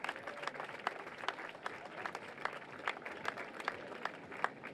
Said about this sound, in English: Vous pouvez encore une fois les applaudir.